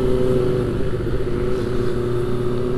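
A Kawasaki ZX25R motorcycle engine runs in a high gear at a steady, moderate pace while commuting, a smooth continuous drone with a constant pitch and no revving.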